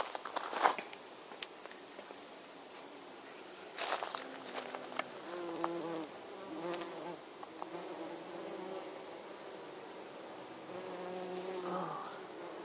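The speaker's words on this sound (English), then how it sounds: "Oh, what a big, big bee." Bees buzzing around lavender flowers in a garden, a low droning hum rising and fading as insects fly close, with faint rustling, light handling noise and a few sharp knocks.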